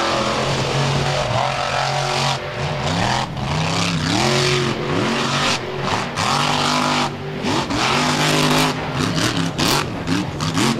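A race car on a sand beach track at Wildwood, NJ, revs hard over rollers and obstacles, its engine rising and falling in repeated loud acceleration sweeps close by.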